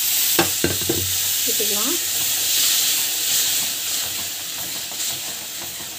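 Pasala keerai greens frying in a pan, a steady close sizzle with scraping stir strokes early on and a brief spoken word.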